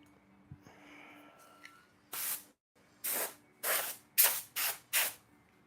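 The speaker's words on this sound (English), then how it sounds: "I know I had a can of compressed air around here somewhere." A can of compressed air fires six short, sharp hissing bursts, close and distinct, after some quiet rustling of handling in a hobby build session.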